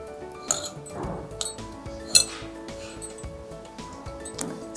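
A spoon clinks against a bowl while ingredients, including lemon juice, are mixed for a small Kathiyawadi snack, giving a few sparse, light metallic taps with quiet pauses between them.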